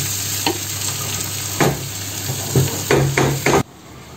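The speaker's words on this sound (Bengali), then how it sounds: "এই যে চিংড়িটা একটু আরও কিছুক্ষণ ভাজবো" Shrimp fry in a pan with a loud, steady sizzle, punctuated by several scraping strokes of a spatula against the metal before the sound cuts off abruptly.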